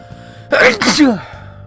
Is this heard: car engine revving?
no